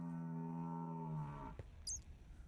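A long, low, droning moo from an evil cow creature in the dark video game Twilight Exile, held steady before sliding down and cutting off, followed by a faint thud and a brief high chirp.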